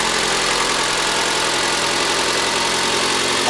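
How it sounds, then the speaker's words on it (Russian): A cold car engine idles steadily just after its first start, a continuous, fairly loud rumble with a dense mid-frequency hum and no voices. "сейчас пока на холодную послушаем его"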